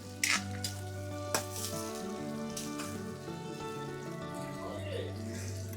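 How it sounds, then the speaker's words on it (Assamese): A whole fish cooks in a pan over low heat with tomato, giving a steady soft sizzle with a few sharp clicks and clatters near the start, and a low hum running beneath. "ধুনীয়াকৈ মাছ উতলি আছে।"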